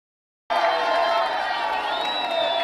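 A crowd cheers and shouts as M23 fighters enter Bukavu, a loud, dense wall of voices and whoops that starts abruptly and holds steady, with some individual voices standing out.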